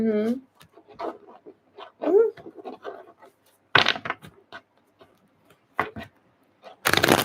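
Tarot cards are shuffled close by in a few short, crisp riffling bursts, set between stretches of a person talking.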